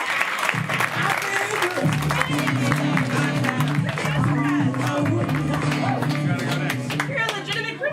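An audience at a live event applauds a volunteer, steady crowd clapping throughout with talking and music running underneath.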